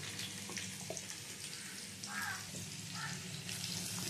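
Pumpkin pieces fry in a pan of oil for a potato and pumpkin curry, giving a soft continuous sizzle with light crackles and bubbling at a moderate, close level.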